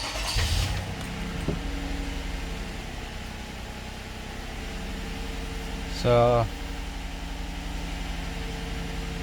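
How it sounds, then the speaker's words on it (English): A car engine is started for an ECM reset and settles into a steady low idle hum, with a brief louder burst midway and a short spoken word at the start. "So I start the car."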